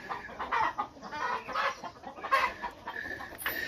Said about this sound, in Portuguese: Olha aqui, a gente tem tanto de galinha.